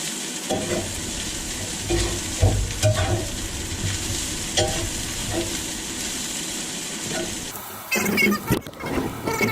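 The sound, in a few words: stirring chicken fried rice in a cast iron skillet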